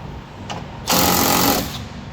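A power tool whirs close and loud for under a second while backing out a small 8mm fastener on a 2017-2022 Ford Superduty tail light, preceded by a faint brief blip.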